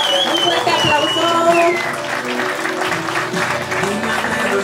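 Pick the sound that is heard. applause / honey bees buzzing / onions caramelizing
applause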